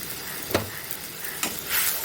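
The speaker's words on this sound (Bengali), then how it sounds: "আমি মশলাটা একটু ভালো করে কষিয়ে নেব।" Masala with whole cinnamon and cardamom frying in a pan for an egg dish: a close, steady sizzle broken by two brief stirring scrapes, with no voices.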